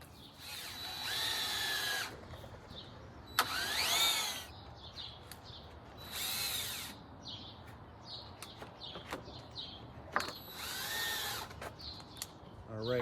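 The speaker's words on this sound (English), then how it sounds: "I'm gonna put a couple screws in the center to hold this board down onto this board" A power drill drives screws through a horizontal wooden fence 2x4 into the board beneath, in four separate whining bursts of one or two seconds each, close and fairly loud, with quiet outdoor pauses and faint birdsong between them.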